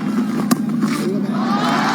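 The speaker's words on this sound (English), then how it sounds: "It's been a while since the crowd had a boundary to cheer for." A cricket stadium crowd at a one-day international between Pakistan and Sri Lanka roars and cheers after a boundary, a dense sustained wall of voices with a sharp shout near the start, loud and continuous.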